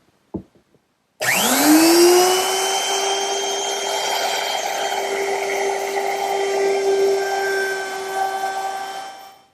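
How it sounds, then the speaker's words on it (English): A router with a quarter-inch roundover bit shapes the bottom edge of a wooden tabletop, spinning up after a few faint clicks into a loud, steady high whine that holds through the cut and drops away at the end. "Now I'm going to round over the bottom edge of my top with a 1/4 inch rounding over bit."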